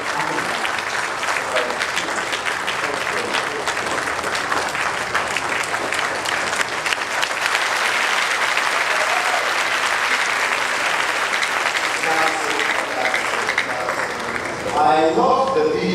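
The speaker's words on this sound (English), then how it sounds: "let's give a round of applause for the CEO of Kantanka Group of Companies, Nana Pedro Safo" Sustained, dense crowd applause fills the hall at a Ghanaian tech expo for the CEO of Kantanka Group of Companies, with voices surfacing near the end.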